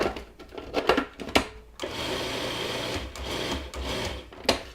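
A blender gives a chocolate pie crust mixture one more quick whirl, starting with a few short bursts and then running steadily with a loud, continuous buzzing whir for about three seconds.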